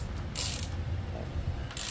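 Ratchet wrench clicking while torquing a part on a Honda Click 125 v3 scooter engine bored to 160cc, with two bursts of rapid mechanical clicks over a steady low background hum.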